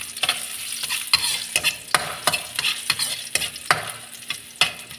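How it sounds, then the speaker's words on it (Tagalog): Ginger sautéing in hot oil for sotanghon, with a steady close sizzle and a dozen or so sharp rhythmic scrapes of a spatula stirring the pan, no talking. "So una po natin igisa ay yung ginger"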